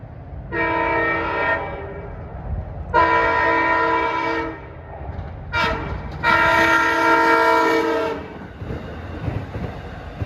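Montauk Branch commuter train approaching on a chilly winter evening: long loud horn blasts in a rising pattern, two sustained blows, a short toot and a final long blast, over the steady rumble of the nearing train.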